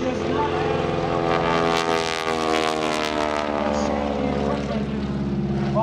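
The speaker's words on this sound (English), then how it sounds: "bringing the airplane in, Carol Pilon, firmly on the top wing" A propeller airplane flies at the 2016 Greenwood Lake airshow during a wingwalking act, its steady, loud engine drone and whirring prop tone holding throughout and swelling slightly as it passes near, with an announcer talking over it.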